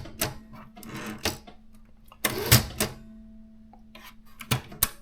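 An Asian manual typewriter's tabulator being worked, giving several sharp mechanical clacks and a longer ratcheting carriage run with a steady hum, close and alone.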